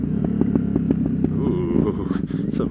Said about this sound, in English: Some farty exhaust going on there.